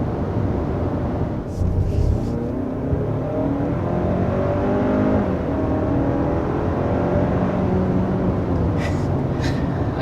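A 2022 Hyundai Santa Cruz pickup with a 2.5-litre turbo engine accelerates up a big hill, a steady, loud, droning engine note that holds constant throughout, heard from inside the cabin.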